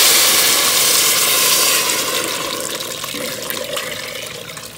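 About eight cups of water pour into a cooking pot, a loud, steady close-up gush that eases slightly toward the end, with no talking.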